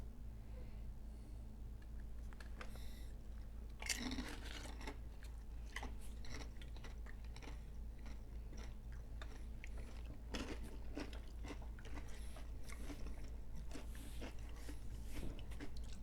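Chips dipped in habanero salsa are chewed close to the microphone, giving soft, irregular crunches and bites over a steady low hum that runs throughout.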